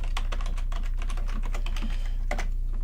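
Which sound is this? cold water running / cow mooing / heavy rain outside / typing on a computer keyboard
typing on a computer keyboard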